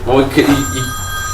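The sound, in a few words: telephone ringing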